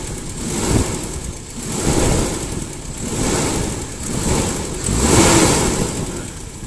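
A Toyota Kijang with a 5K engine is revved in repeated bursts, each one swelling and falling back to a rough idle, loud and close up.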